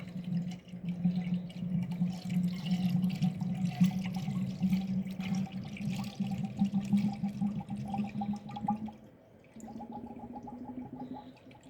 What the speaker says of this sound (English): we are spilling antifreeze everywhere, but we're going to top this off